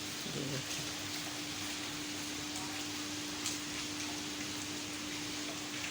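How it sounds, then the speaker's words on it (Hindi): Steady rain pours down in a dense, even hiss, with a faint tonal hum running underneath throughout. "बाहर देखो कितनी तेज़ बारिश हो रही है"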